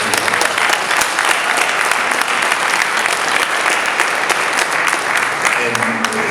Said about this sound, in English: I just want to give Jesse Vargas a big round of applause